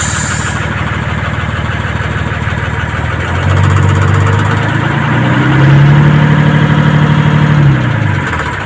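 A Mercedes-Benz 911 truck engine idles smoothly and loudly up close, a steady diesel rumble that deepens and swells midway before easing slightly at the end.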